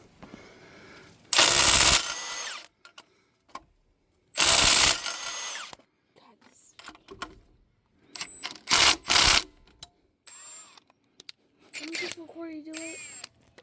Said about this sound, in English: I was going to do the honors and take the last few bolts out